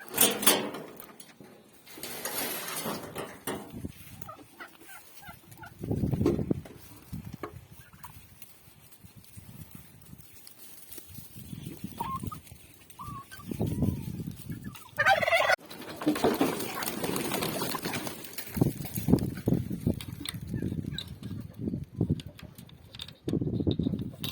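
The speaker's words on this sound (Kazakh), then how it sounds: "Қазір бірінші күрке тауықтарды шығарам" Farm turkeys gobble in several short bursts as they are let out of their shed, mixed with clattering and door-like knocks at moderate distance, without talk.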